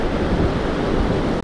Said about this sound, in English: Man, it's super windy here today.